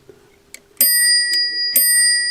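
An old telephone's bell, with no visible adjuster and a small tension spring beneath, gives two or three bright metallic dings that ring on and shimmer close by after some faint handling taps.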